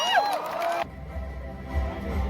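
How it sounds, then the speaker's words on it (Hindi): A university crowd cheering for MS Dhoni, opening with shrill whoops and whistles before dropping to a low, rumbling crowd roar. "एक बार जोरदार तालियां पर माही भाई"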